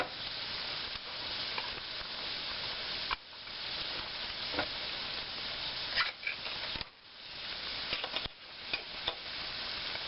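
Canned petite diced tomatoes with juice hit a pot of simmering soup, a close, continuous sizzle and bubbling broken by stirring scrapes and small clanks, with no voices.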